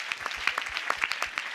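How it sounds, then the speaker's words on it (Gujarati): A Christmas celebration audience at a church gathering claps in a brief burst of quick, scattered handclaps, fairly close and with no voices over it. "સારું લાગતું હોય તો તાળી પાડો"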